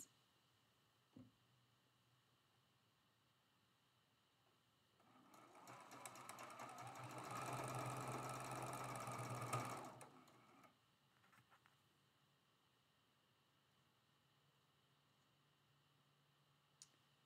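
Sewing machine stitching quilt block pieces with a quarter-inch seam, a steady rapid whirring run of about five seconds in a quiet room, framed by a few faint clicks.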